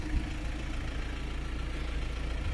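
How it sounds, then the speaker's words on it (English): Idling Ford Transit van engine, a steady low rumble that holds even and smooth throughout with no knocks or misfires, close by and alone. "as you can hear, the engine sounds absolutely fine, nice and smooth, not making any noises"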